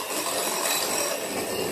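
Electric mixer whisking meringue with sugar syrup for Baked Alaska, a steady close whirring and rubbing hum that stays level throughout with no talk.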